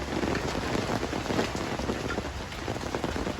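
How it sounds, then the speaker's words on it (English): Steady rain pours down outdoors as a passing storm cell arrives early in August, a dense continuous patter on surfaces with no voices, holding at an even level throughout. "The rain was supposed to hold off more or less for another few hours, but I guess it came early."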